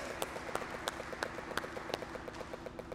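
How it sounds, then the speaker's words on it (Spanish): Applause from a wedding crowd at Holy Ghost Church in Houston, Texas, steady overlapping claps with a few sharper claps standing out, moderately distant. "si ustedes quieren hacer este compromiso, muéstralo con un aplauso"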